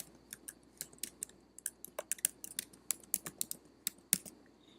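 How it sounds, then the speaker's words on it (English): Quick bursts of keystrokes on a computer keyboard as a search phrase is typed, irregular clicks close by and fairly quiet, with no talking. "we're going to type in Johnny Cash Tribute"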